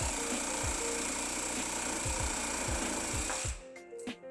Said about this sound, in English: My plan is to divide the ham into 5 pieces and start sawing from the ankle.